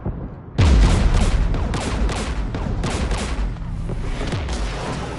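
Gunfire in the video game Mass Effect 3, a heavy burst of rapid shots that starts abruptly after a short lead-in, then keeps rattling loud and dense with booming impacts and echoing bursts.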